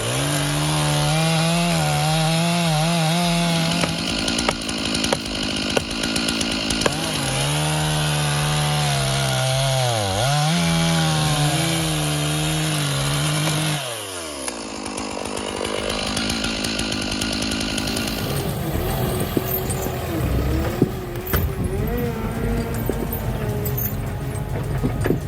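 Big chainsaw cutting a large fallen tree trunk into pieces, a loud buzzing engine that bogs and revs in bursts as it bites through the wood, then gives way to other heavy machine noise.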